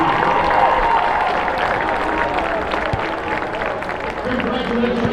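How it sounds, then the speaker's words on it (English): A crowd applauds and cheers for the CWRU softball team at a college sports event, a steady dense wash of clapping that holds at even loudness throughout. "Let's hear another big round of applause for the"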